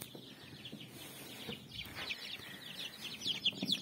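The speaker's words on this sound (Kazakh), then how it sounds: "Әнеки балапандар" Young chicks peep and cheep in a brooder warmed by two lamps, a busy, continuous chorus of high, rapid calls close by, growing denser and louder toward the end.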